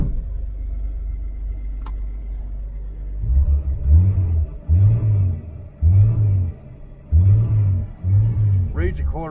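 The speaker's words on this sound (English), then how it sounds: "Started right up after I put a little gas in the carburetor." An old car engine, fed a little gas in the carburetor, runs after starting with a low rumble that surges in several rhythmic revs.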